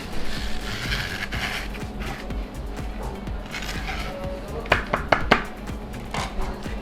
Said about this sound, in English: I'm gonna come over here and start scraping up our little Dippin' dots. They just slide right off.